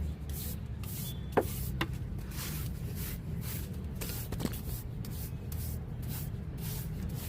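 A brush scrubs a surface outdoors in quiet, irregular rasping strokes, with a few sharp knocks and clicks between them.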